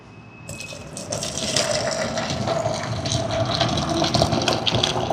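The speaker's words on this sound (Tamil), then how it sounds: "ஆவி பறக்கும் சுடுதண்ணி." Steaming hot boiled water poured for mixing puttu dough, a steady close gushing stream that grows fuller as the vessel fills.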